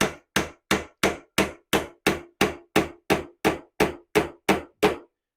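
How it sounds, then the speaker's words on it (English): A cross-peen Warrington woodworker's hammer drives a nail into a wooden butt joint with about fourteen sharp, evenly spaced blows, close and clear, with no talk. "I'm simply nailing this in."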